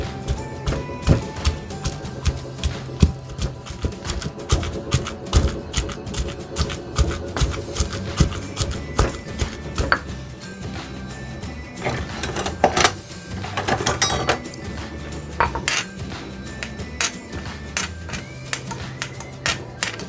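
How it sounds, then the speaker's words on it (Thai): A pestle pounds shallots, garlic and coriander root in a mortar for a Thai chilli paste. Close, rapid, uneven knocking thuds repeat in a steady working rhythm throughout. "เติมหอมค่ะ กระเทียมรากผักชีแล้วก็โขลกรวมกันค่ะ"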